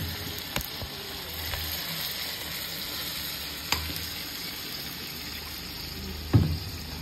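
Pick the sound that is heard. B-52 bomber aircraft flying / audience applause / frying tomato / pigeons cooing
frying tomato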